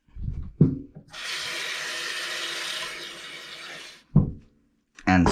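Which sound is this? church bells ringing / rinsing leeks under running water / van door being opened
rinsing leeks under running water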